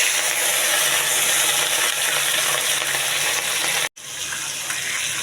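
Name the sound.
fish frying in hot oil in a wok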